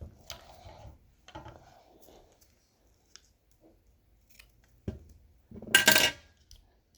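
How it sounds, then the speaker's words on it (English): Scissors cutting tape for a ministick knob: a few soft snips and handling clicks with quiet gaps, then a louder, sharper crinkling cut near the end. "Allie, can you hand me the scissors? Because if I rip it with my teeth, I usually mess it up."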